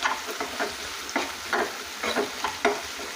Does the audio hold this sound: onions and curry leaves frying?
yes